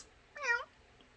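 A single short cat meow rises and falls clearly near the microphone, alone against a quiet indoor background.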